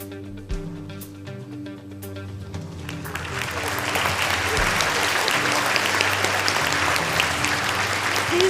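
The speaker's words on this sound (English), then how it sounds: "join me in giving another round of applause to Professor Herzog for sharing his insights with us." A lecture hall audience at the Chinese University of Hong Kong breaks into sustained applause after a lecture by Professor Herzog, swelling from quiet background murmur into a dense, steady clapping that fills the room.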